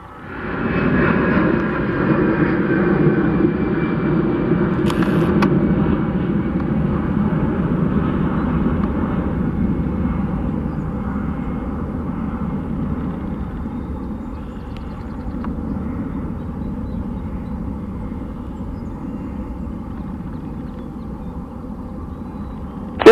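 A British Airways Boeing 787-8 departs a runway at Montreal airport, its jet engines producing a loud, sustained roar that holds steady and then slowly fades as the aircraft moves away.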